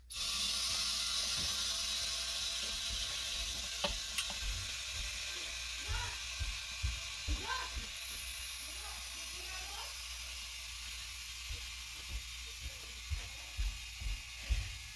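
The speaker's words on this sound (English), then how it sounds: "the tire, while I'm adding air, the tire pushing, see that? It's pushing the oil out." Air hisses steadily into a tire being inflated while oil is pushed out at the rim beads during a slow-leak repair, a loud hiss early that fades, with scattered clicks and faint rustles.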